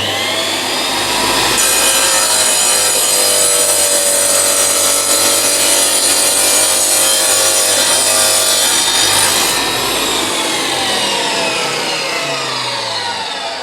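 A DeWalt D24000 wet tile saw cuts a chamfer in stone, a loud, steady grinding whine with a high ringing tone held for several seconds, running continuously nearby for the whole stretch.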